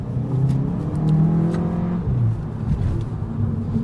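A 2022 Audi A1 accelerating hard with quick gear changes: a loud, close engine note climbs and briefly drops between shifts, then pulls again, with a steady whirring drone throughout and no talking.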